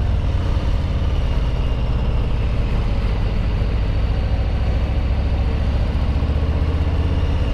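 A 2020 Harley-Davidson Low Rider S motorcycle engine under way on a southern hill road, with a steady, loud low rumble and wind roar holding evenly throughout, no talking.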